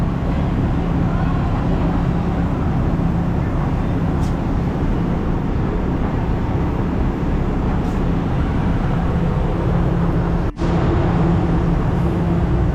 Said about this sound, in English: Back of the bus is noisy and hot.